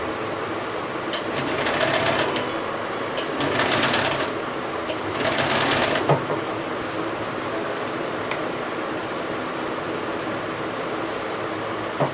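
A sewing machine runs steadily as ribbon is stitched onto the inside of a small doll suit, a half-pant outfit for Bal Gopal, with three louder surges of speed over a continuous close mechanical whir.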